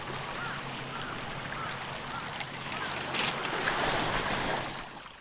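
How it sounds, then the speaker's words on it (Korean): Winter waves wash over the round pebbles of Dongam pebble beach on Chubongdo island, a broad rushing hiss that builds and recedes, with wind noise in the microphone. "쉼없이 밀려오는 겨울 파도에 휩쓸려 몽돌이 흐르는 소리는 멈추다 이어지고 또 이어지며"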